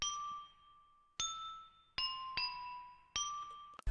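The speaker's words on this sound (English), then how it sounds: "Next up is the bell that plays throughout the whole beat." Bright bell melody from a plugg beat, five clear struck notes ringing with sustained tones in an uneven rhythm, each decaying before the next, alone and fairly loud.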